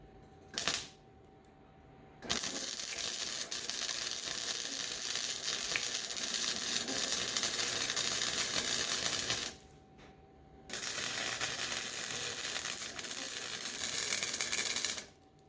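Welding spots on a rusty mini tractor brush guard: two long runs of loud, steady crackling sizzle, separated by a short quiet pause, with a brief pop just before the first run.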